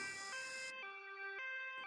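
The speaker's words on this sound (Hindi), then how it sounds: "एम्बुलेंस पीछे पीछे आ रही थी" A cartoon ambulance siren wails in a jungle story, loud electronic tones that shift pitch in a repeating up-and-down pattern, heard alone over the short stretch.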